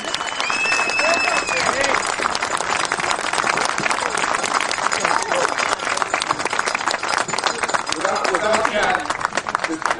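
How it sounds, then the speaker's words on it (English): A loud, dense roar of applause from a commemoration crowd honoring Jack Ryan, sustained and even for the whole stretch, with cheering voices mixed into the clapping. "give an extremely loud round of applause to Jack Ryan"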